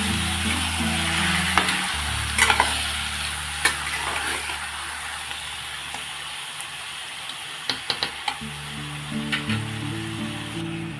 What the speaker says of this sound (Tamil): சிக்கன் சேர்த்தாச்சு. இப்போ நல்லா கிண்டிக்கலாம்.